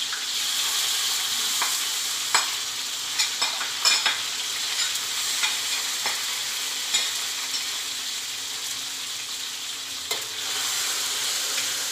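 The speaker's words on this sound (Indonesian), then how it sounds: "Kita akan menumis bumbu ini sampai dengan mencapai tingkat kematangan." Rendang spice paste sizzles and fries steadily in hot oil, with light scrapes and clicks as it is stirred in the pan. No one speaks.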